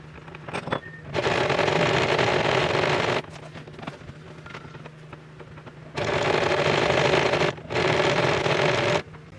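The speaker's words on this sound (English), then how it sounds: "I just finished sewing it." A sewing machine runs through pleated cancan fabric in three loud, steady bursts of whirring stitching, separated by quieter pauses with faint background noise.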